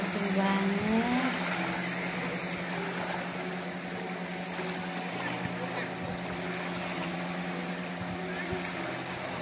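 A fishing boat's outboard motor drones steadily as it speeds past offshore at a beach, a continuous engine hum with wind and surf noise around it, a rising tone early on, and no talk over it.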